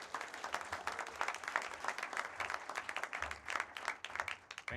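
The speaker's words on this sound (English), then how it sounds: "Let's give him a big round of applause." Crowd applause at a college graduation ceremony at a sports club, steady clapping from many hands with uneven bursts, moderately distant and continuous.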